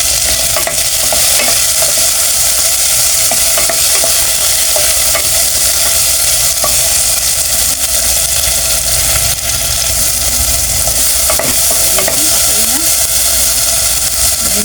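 Tomatoes fry in hot oil until golden brown for salmon head sinigang, giving off a loud, continuous sizzle with a steady hiss and frequent scraping stir strokes. A voice talks faintly in the background.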